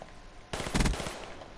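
A burst-fire M16 rifle in the video game Black Ops 3 lets off a quick, loud cluster of shots, clean and punchy, followed by a short decaying tail, with no talk over it.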